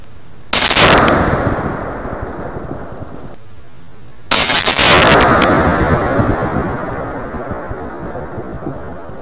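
Two huge blasts from a propane tank set off by gunshots outdoors, each an abrupt booming crack that rolls out into a long fading rumble, about four seconds apart, very loud and with no talk.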